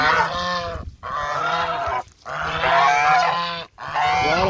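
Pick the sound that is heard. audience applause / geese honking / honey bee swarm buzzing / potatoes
geese honking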